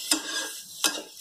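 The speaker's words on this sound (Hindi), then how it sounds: "हमारा मसाला बहुत अच्छी तरह भून गया है।" Spice masala with amchur roasting in a pan for stuffed pointed gourd. A soft, continuous sizzle is broken by two sharp scraping stirs about three-quarters of a second apart, close and fairly quiet, with no talking.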